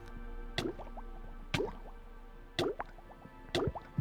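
A video game character wades into water and drowns: four splashy, gulping plops arrive about once a second over a steady droning background, with no talking.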